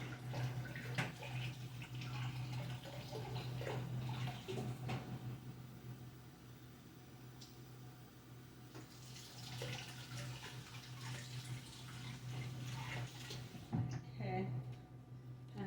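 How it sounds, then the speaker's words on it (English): A spatula washed under a running kitchen tap: a steady gush of water with occasional clinks and knocks as the utensil is rinsed, heard up close. "I'm just washing out a spatula."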